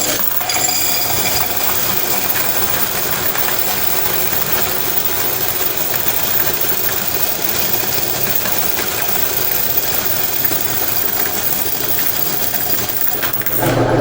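Quarters collected from laundromat washers pour and clatter continuously in a dense metallic jingle that keeps up loudly for about fourteen seconds without pause.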